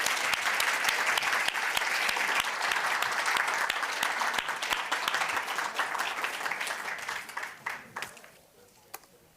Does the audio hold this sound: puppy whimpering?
no